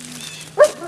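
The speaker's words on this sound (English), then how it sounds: "Kyle, are you in the doghouse again with all the puppies?" A single short bark or yip from a dog among six-week-old puppies, heard close and fairly loud after a faint whine, with a quiet hum beneath.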